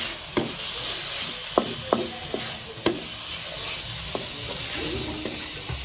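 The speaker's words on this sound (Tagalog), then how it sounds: "piprito ko po muna itong bacon" Bacon fries in a pan for carbonara, a steady loud sizzle running throughout with several sharp clicks and scrapes of stirring.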